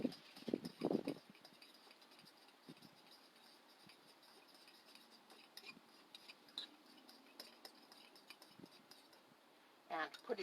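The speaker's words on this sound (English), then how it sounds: "now we're going to go ahead and mix this all up" Black bean burger ingredients stirred in a bowl, with faint soft scraping and light clinks of a utensil throughout and a couple of louder knocks near the start and end.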